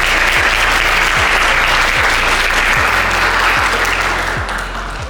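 Loud, sustained audience applause welcomes a guest speaker at a school event in Jakarta. The clapping is dense and continuous, with a regular low thumping underneath, and it fades slightly at the end.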